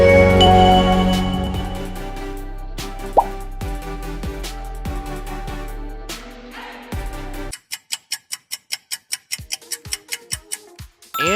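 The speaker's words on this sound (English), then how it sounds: "that sound was Nokia." The Nokia ringtone plays as a short synthetic logo melody of bright, bubbly tones, followed by a rapid series of crisp ticking clicks, clear and close with no talking.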